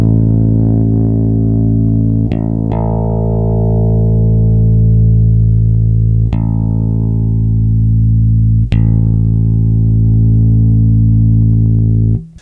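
Dingwall Combustion NG2 multiscale electric bass plugged in direct, a sustained low note ringing loud and steady while its EQ knobs are turned, with a few sharp clicks of handling noise along the way and no talking.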